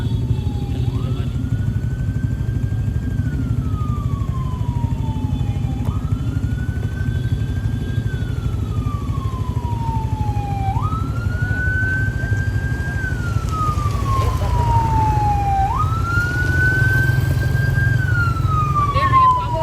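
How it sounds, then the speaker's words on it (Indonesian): Ambulance siren wails in repeated rising and falling sweeps over a constant engine rumble at a road junction in Lebani, Toraja, loud and steady, with faint voices beneath. "kita tunggu mobil ambulans di sini"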